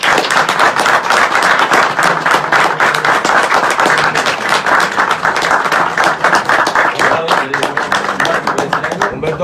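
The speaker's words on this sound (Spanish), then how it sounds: "un fuerte aplauso y nada," Audience applause after an announcement at a football tournament event, a dense sustained roar of clapping that stays loud throughout, with some voices underneath.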